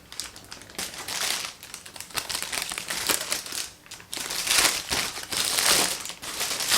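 Personalized tissue paper crinkles and rustles in close, busy bursts as it is unwrapped from a limited-edition Dr. Martens 1461 boot box, with no one talking.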